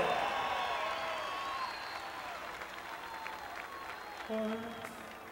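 Audience at a concert applauding singers, fairly quiet and distant, fading gradually, with a voice and musical tones entering near the end.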